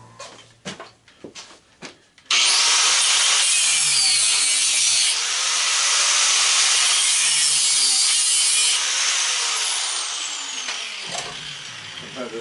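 Angle grinder cutting into the housing of a small scrapped fan motor for copper: a few clanks, then a loud continuous abrasive whine held steady for about ten seconds before it tapers off and stops.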